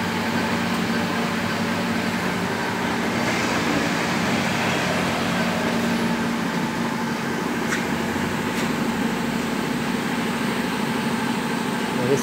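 MAG/Speed Queen washing machine in a launderette spinning, a steady whirring drone with a low rumble that holds at a constant level throughout, close and continuous.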